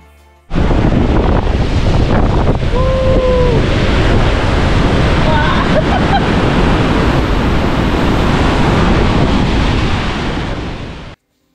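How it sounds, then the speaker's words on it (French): Latefossen and Langfossen waterfalls in Norway's fjord region, swollen with June snowmelt, give a loud, dense, continuous roar of rushing water that starts abruptly and holds steady, with a faint brief whistle-like tone early on. "On poursuit ensuite vers deux autres cascades, celle de Latfossen, puis celle des Langfossen."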